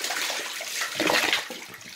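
A vintage-style toilet flushes in a regular flush, with a loud rushing gush of water that swells in the middle before easing, heard close up with no talking.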